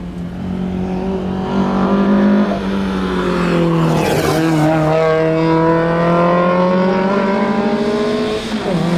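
A small 1.3-litre Lada 2101 Group 2 race car engine revs hard and steady, its buzzing note climbing and dipping through gear changes, loud and close.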